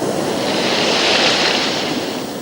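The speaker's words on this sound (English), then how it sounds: "When it came, there were pounding seas and headwinds." Pounding seas and a headwind batter a yacht racing in the 1981 Whitbread Round the World Race, a loud, broad roar of surf and wind that swells toward the middle and eases slightly at the end.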